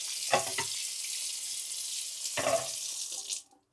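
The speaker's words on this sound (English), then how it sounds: "put warm water onto the board." Warm tap water runs into a kitchen sink and splashes onto a wooden cutting board, a steady close hiss with a couple of light knocks from the board, ending as the faucet is shut off.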